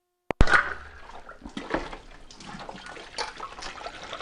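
Water splashes and trickles as soap suds are rinsed out of a Thermomix TM6 bowl, a sharp knock at the start, then close, uneven pouring and sloshing.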